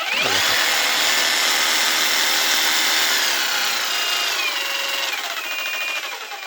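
Grand cordless battery power tool run at maximum speed, a loud, steady high-pitched whine that holds for several seconds and fades slightly near the end, with no talking.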